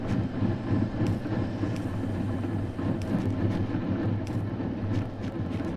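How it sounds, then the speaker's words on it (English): Air compressors in the factory game Factorio Nullius hum in a steady, loud, dense drone with a low mechanical rumble and faint periodic hiss bursts, continuous and without talk. "we have to pass normal air through these compressors before it reaches the distilleries. I really don't know why they need to be so loud."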